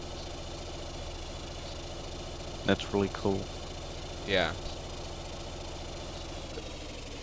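A steady low submarine diesel engine hum in a video game runs throughout, with a couple of brief spoken remarks over it.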